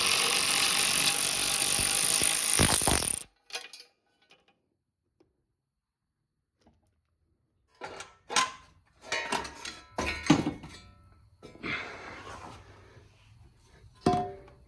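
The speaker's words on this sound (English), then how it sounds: "And here's my ratcheting wrench." Ratcheting wrench with a deep socket clicking on a Toyota V8 exhaust manifold bolt, heard as several short bursts of close mechanical ratchet clicks separated by quiet pauses, after a loud steady noise at the start.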